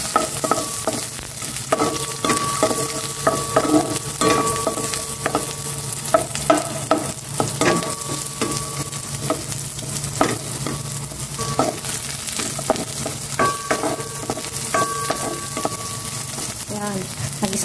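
Garlic sizzles in a hot pan while a utensil scrapes and stirs it in quick irregular strokes, steady frying crackle up close with occasional clinks, no talking.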